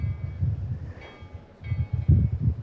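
Steam train rumbling along in the Demon Slayer Hinokami Chronicles video game, a low, pulsing rolling noise with faint higher metallic whines that briefly rise above it, continuous and without speech.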